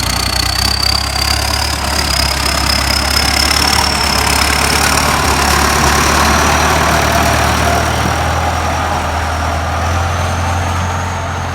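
A Ford 6610 turbo tractor engine runs at a steady idle, loud and close, with a deep rumble under a thin, high turbo whistle that rises slightly and holds.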